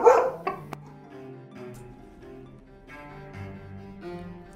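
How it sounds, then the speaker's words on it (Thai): A dog barks as a sound effect in a Grimm fairy tale narration: a couple of short, sharp barks at the start over soft background music, then the music continues alone. "หมาก็เห่าโฮ่งโฮ่ง"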